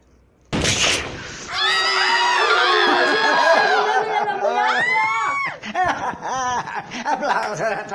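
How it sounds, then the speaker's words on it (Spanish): Crowd at a Mexican comedy short film scene cheering and shouting after a sudden loud burst, with excited voices and laughter carrying over several seconds, fairly close and loud. "¡Aplausos!"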